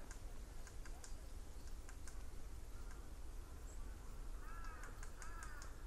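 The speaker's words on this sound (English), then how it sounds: "And he's bashing his beak against the branch." A tiny bird in a cherry-blossom forest park in Matsudo, Japan, beats its beak against a tree branch with faint, sharp ticking taps in brief clusters, while a crow caws near the end.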